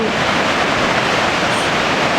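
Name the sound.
Kapuzbaşı waterfall rushing water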